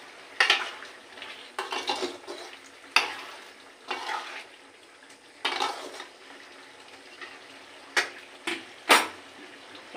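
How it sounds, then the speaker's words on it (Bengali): Shrimp tipped into a hot pan with ridge gourd and stirred, giving irregular bursts of scraping utensil strokes and frying hiss, close and clear, with quiet gaps between strokes and no voices. "এবার মাছগুলো আমি দিয়ে দিচ্ছি।"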